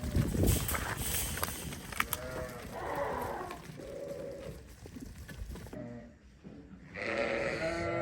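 Sheep in a village herd of the Sokuluk district, Kyrgyzstan, bleat repeatedly at close range over steady farmyard noise, with cattle-like lowing mixed in and no speech.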